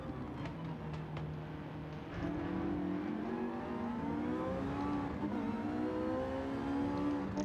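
A Porsche 918 Spyder in Gran Turismo 7 runs at speed on a race track. Its engine note climbs steadily through the gears in a smooth, rising whine, moderately loud and alone.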